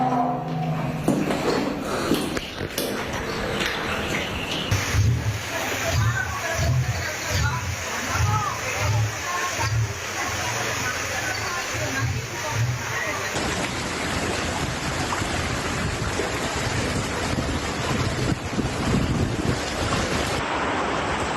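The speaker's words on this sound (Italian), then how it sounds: "Qua stradina nostra c'è un piccolo fiume in piena che scorre" Floodwater rushing like a small swollen river down a narrow street in Venice, a steady churning flow with wind noise on the microphone and a person talking over it.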